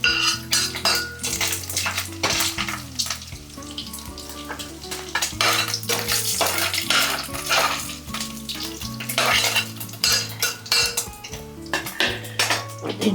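Dry fish fries lightly in a pan for an egg curry, with a soft sizzle under frequent metallic scraping and clatter from a utensil stirring against the pan.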